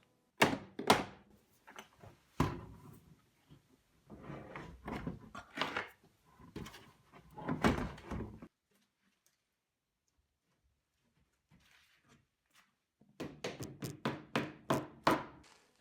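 A door being taken off for removal in a basement laundry room: a run of sharp knocks, thuds and clicks, then a few seconds of near-silence, then a quick burst of close tapping blows.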